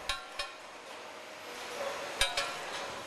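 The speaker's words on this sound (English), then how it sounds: "For testing, the roof tiles are tapped by a small hammer." A small hammer taps clay roof tiles moving along a conveyor belt for sonic testing, giving a few sharp, bright clinks spaced unevenly over a faint steady machine hiss.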